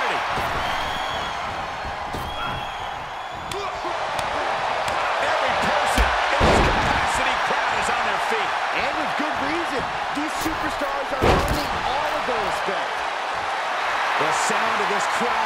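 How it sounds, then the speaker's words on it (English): A large arena crowd at a professional wrestling event roars continuously with a broad, dense wash of cheering, and a commentator talks over it throughout; a couple of sharp slams punctuate the noise. "The sound of this crowd is deafening, and he's asking for more."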